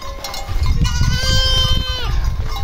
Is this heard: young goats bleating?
yes